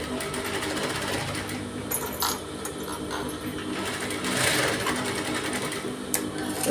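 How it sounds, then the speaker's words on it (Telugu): A sewing machine runs steadily, stitching across dori thread to make a piped cord, its rapid rhythmic needle clatter close and continuous with a few brief shifts in pace. "అడ్డంగా స్టిచ్ వేసుకోవాలండి. కొంచెం డబల్ స్టిచ్చింగ్ లాగా వేసుకోండి"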